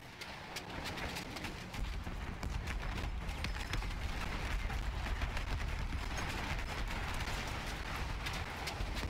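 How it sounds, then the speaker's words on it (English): An anti-aircraft gun in the Battlefield 1 campaign fires in a steady, dense stream of rapid thumping shots that go on without pause, loud and close, with little speech. "Turns anti-aircraft gun against them."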